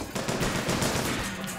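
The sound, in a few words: weapon firing in video game BioShock Infinite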